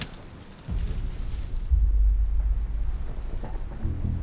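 Steady rain hisses over deep rumbling gusts of wind that swell and buffet the mic, growing louder partway through, as rain and wind pick up in Ethiopia.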